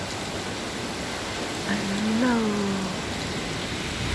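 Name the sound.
heavy rain falling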